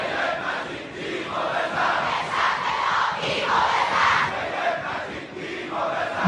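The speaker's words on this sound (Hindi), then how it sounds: "ये देखिए यहाँ पर कितनी बड़ी भीड़ है" A large protesting crowd roars and chants continuously throughout, a dense wall of shouting voices with rhythmic swells, close and loud, with no single voice standing out.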